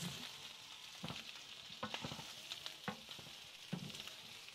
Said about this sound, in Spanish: Aquí le voy a vaciar la cebollita para que se vaya también dorando con la carne